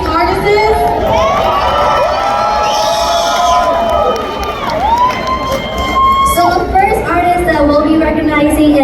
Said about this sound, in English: can we get a big round of applause and get ready to welcome all of our amazing artists?